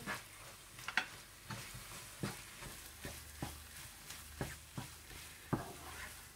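Pista barfi mixture with caster sugar and food colour being stirred and mixed by hand, giving a series of soft, irregular scraping and tapping strokes at a steady working pace, fairly quiet and close with no talking.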